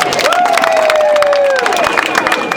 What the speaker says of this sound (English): Let's thank and clap for Amos Wekesa.